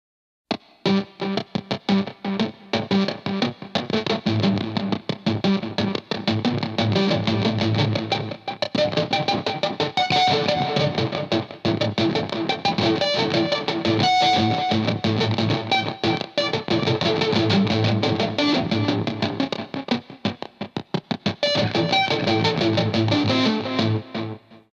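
Electric guitar with the gain maxed through an Ibanez pedal, played as a loud distorted rhythm chopped by a noise gate, with echo trailing the notes; dense and continuous, with brief gaps near the start and end.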